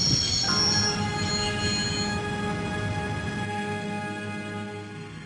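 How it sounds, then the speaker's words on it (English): Train in the video game Broken Sword braking to a stop, a loud, sustained metallic wheel squeal with layered high tones over a low rumble, slowly fading as it slows, no talk. "always wanted to stop a train, and now was my chance"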